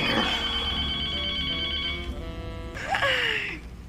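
A telephone bell rings loudly and steadily close by for about two seconds, then cuts off and gives way to a brief electronic tone with a falling sweep.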